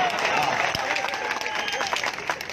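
Crowd applause and cheering at an outdoor political rally in Hisar, a dense continuous wash of clapping with crowd noise, fairly loud and sustained throughout.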